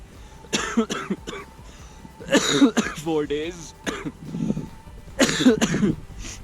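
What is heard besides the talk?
coughing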